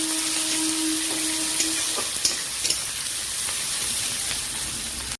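Chopped onions frying for a mutton curry, a loud, steady close sizzle with occasional stirring clinks, ending abruptly.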